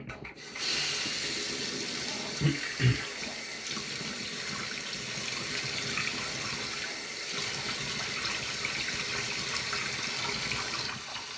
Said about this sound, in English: A little warm water rinse